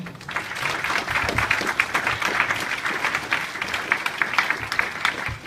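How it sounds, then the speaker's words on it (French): An audience at an artificial intelligence meetup applauds the speakers, a steady dense wash of many hands clapping that carries on evenly from start to finish, close and fairly loud. "je pense que vous pouvez les applaudir encore une fois"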